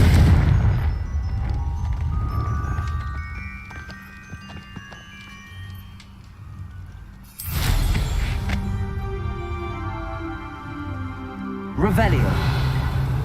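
Confringo fire spell blasts in Hogwarts Legacy, two sharp booming explosions with rumbling tails amid game ambience, and a voice speaking over parts of it.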